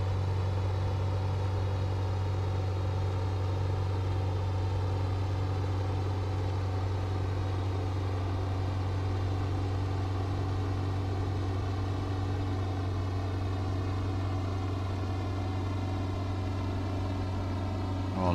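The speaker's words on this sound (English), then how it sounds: "Oh, listen to those engine noise." Simulated warbird piston engines in Microsoft Flight Simulator drone steadily at low volume, a smooth continuous hum with layered harmonics and no talk over it.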